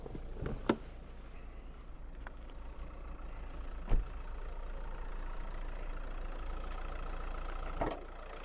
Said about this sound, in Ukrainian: Працює автомобіль рівномірно